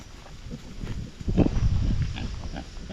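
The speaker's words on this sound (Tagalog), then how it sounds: "Ang baboy." A pig on a farm grunts and snorts close by, a rough burst of low grunting that swells midway and carries on over faint outdoor background noise.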